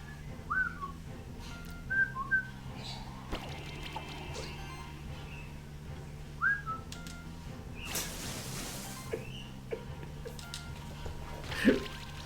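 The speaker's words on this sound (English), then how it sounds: "I can't do anything other than just listen to the bird outside" A bird singing outdoors, heard faintly as short chirping whistles repeating every couple of seconds over a low indoor hum and occasional clicks and mechanical noises.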